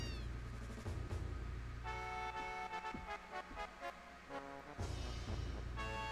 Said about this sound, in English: That's a tiny ass kitten.